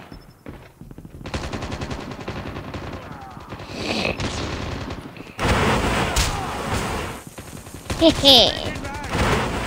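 Bursts of automatic gunfire from a gun in the mobile shooter Call of Duty Mobile, loud and sustained, with a short laugh and talk over the shots.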